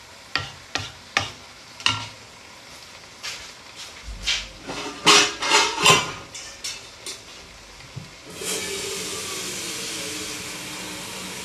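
A spoon stirs chicken stew (csirke pörkölt) in a pot, giving a series of sharp scraping knocks and clatters, followed by a steady sizzling hiss as it simmers.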